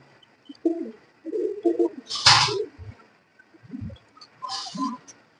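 Pigeons of the Jabra Katamoni breed kept in a loft, giving several low, throaty coos in short bursts close by, with a sharp flutter or snort in the middle and quiet gaps between calls.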